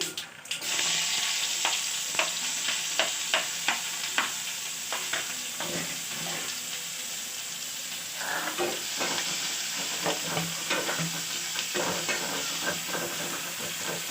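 Onions fry in hot oil in a pan with a steady broadband sizzle and hiss, broken by repeated soft clinks and scrapes of a spoon stirring throughout.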